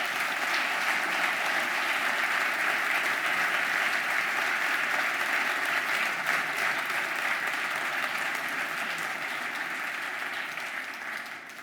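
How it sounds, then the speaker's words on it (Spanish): Steady, dense applause from a large audience honoring football players at a forum in Casa de América, Madrid, sustained for about twelve seconds and tapering slightly at the end. "A ellos les doy las gracias y pido un aplauso"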